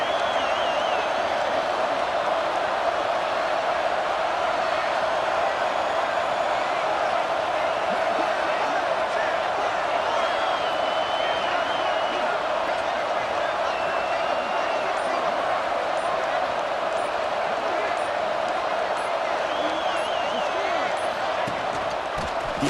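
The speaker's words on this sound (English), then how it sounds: "Listen to the crowd energy here in the early going." A stadium crowd murmurs steadily in EA College Football 26, from a USC at Oregon game, a dense, continuous wash of noise that holds at even loudness throughout with no distinct cheers.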